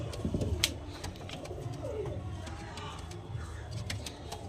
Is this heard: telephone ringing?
no